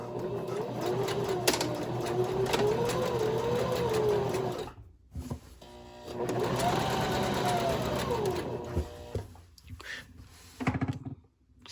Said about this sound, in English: You're going to sew from one end and make your way around the curve all the way up to the other end and back stitch on the ends.